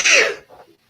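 One short, sharp sneeze bursts out close to the microphone and trails off quickly into quiet.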